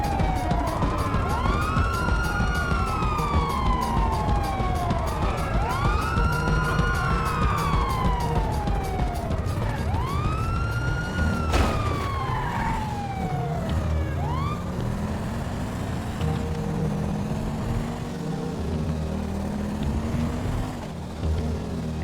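A police car siren in a video game wails loudly throughout, rising and falling in repeated sweeping cycles, with steady engine and traffic noise underneath.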